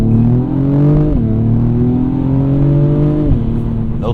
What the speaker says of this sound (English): we are going to take off from a standstill to see how we do from a dig